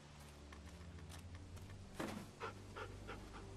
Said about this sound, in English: Dog apparently.